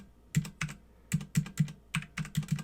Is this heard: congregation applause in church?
no